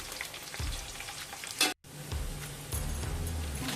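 Garlic frying in hot oil for ragi poha chivda, a steady soft sizzle with a brief stir clink and a sudden hush midway before the crackle resumes, close and alone.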